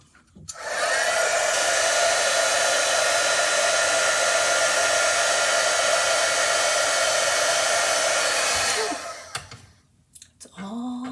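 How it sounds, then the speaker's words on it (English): A heat tool for heat embossing blows with a loud, steady whooshing roar for about eight seconds before switching off, followed by a few small clicks and handling sounds nearby. "I'm looking for my heat tool"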